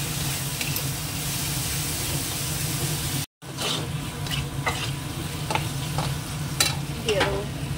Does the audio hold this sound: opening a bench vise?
no